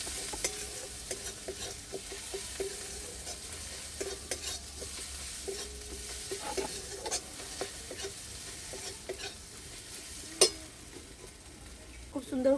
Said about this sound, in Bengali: খুব সুন্দর করে মাখিয়ে নিয়েছে, দেখুন মশলার উপরেই দিয়ে দিচ্ছে।